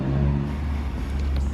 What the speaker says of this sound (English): as Matty drives off into the distance